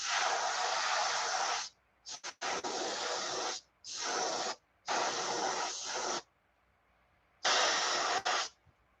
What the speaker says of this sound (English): I'm going to go ahead and spray a little more green on the very top here to get it a little bit darker